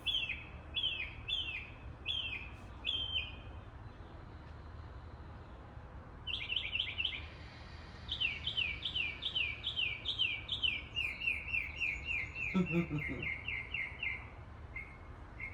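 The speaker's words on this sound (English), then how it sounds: "The birds are so pretty." Outdoor birds chirp in repeated rapid trills, clear and moderately near, with pauses between phrases over a soft steady background hum.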